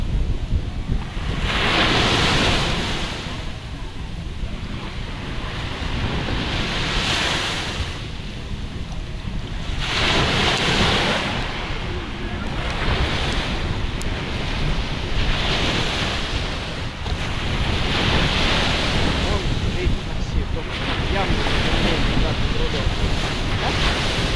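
Ocean waves surge and break in repeated washes every few seconds, loud and close, with strong wind buffeting the microphone throughout.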